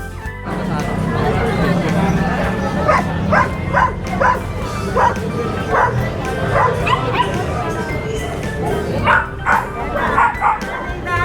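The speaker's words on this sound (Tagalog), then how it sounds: "mga cutie puppy na mixed breed" Several mixed-breed puppies at a busy pet and livestock market give repeated short, high yips and barks, with whimpers mixed in over a crowded background of voices.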